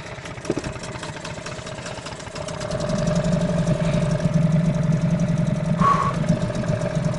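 On a frosty night a boat motor idles steadily, a low chugging hum that grows louder and fuller after the first few seconds.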